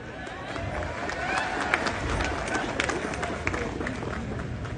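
An audience at a Marathi talk breaks into dense, steady clapping that fills the room at moderate loudness, with voices mixed in beneath.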